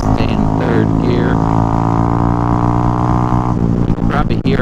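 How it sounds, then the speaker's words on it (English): A Honda Grom motorcycle with a cheap aftermarket exhaust drones steadily in third gear, a loud, raspy exhaust note at a constant pitch, a few brief shifts near the end. "You can probably hear it, but it has some cheap aftermarket exhaust."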